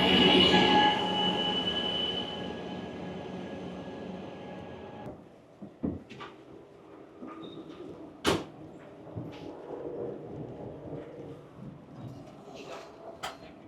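A southbound train rumbles past loudly at first, then fades, leaving scattered metallic clanks and squeals from the rails at a distance.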